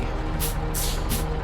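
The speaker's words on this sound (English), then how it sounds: "That's the sound of cement." Cement pours into a truck in a snowy driving video game, heard as three short hissing bursts of rushing spray over a low, steady engine rumble.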